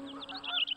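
A brief burst of cartoon duck honking quacks, faint and close, lasting under a second.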